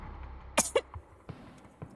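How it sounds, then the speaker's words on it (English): A single short cough, close and fairly clear, followed by a few faint breathy noises against a quiet background. "that was a cough."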